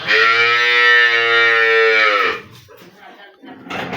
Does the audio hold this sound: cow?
yes